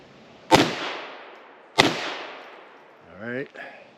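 Two sharp pistol gunshots from a Luger Mark II .22 fired in a comparative recoil test, spaced about a second apart, each loud and close with a fading tail, followed by a brief voice.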